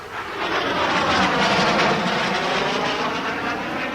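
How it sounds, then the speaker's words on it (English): A small plane drones steadily overhead, a loud, continuous engine roar that holds for the whole stretch as it flies over and comes in to land, with no talk. "It's Jeff's plane! That's his number"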